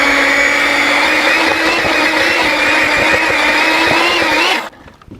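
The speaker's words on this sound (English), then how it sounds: "I'm going to put the beaters back in and mix it on, I'd say medium speed until it's all combined" An electric hand mixer whirs steadily at medium speed through cheesecake batter, a loud continuous motor drone with faint beater clatter, then it switches off abruptly near the end.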